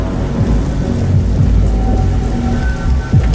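Heavy rain pours steadily with deep rolling thunder rumbling underneath, a loud, dense and continuous storm with no voices.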